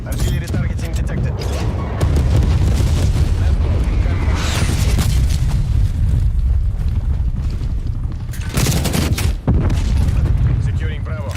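Artillery strike explosions in a multiplayer shooter video game: continuous loud booming rumble and blasts with sharper bursts throughout, close and heavy, over a busy battlefield background.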